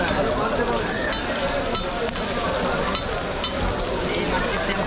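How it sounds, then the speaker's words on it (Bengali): Hilsa fish frying in oil at a busy riverside ghat eatery, loud dense sizzling and spattering throughout, with people talking in the background. "দর্শক দেখতেই পারছেন ইলিশ মাছ কিভাবে ভাজি করা হচ্ছে।"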